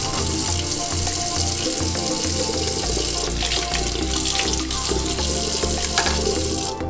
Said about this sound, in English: Just go ahead and rinse the stems under some cold water